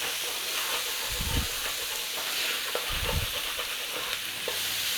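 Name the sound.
garlic and onions stirred and frying in a pan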